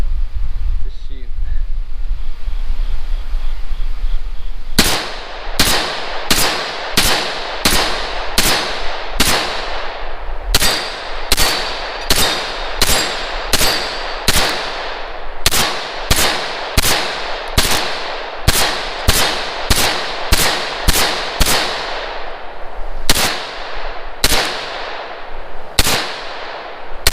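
Semi-automatic shots from a Palmetto State Armory PSA 9 Shockwave 9mm pistol-caliber firearm fired outdoors, roughly twenty-five sharp, loud reports in quick irregular bursts, each with a short ringing decay.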